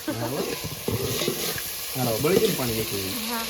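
Water splashes into a hot pan of shrimp, giving a loud, steady sizzle and frying hiss throughout, with a soft voice speaking faintly underneath.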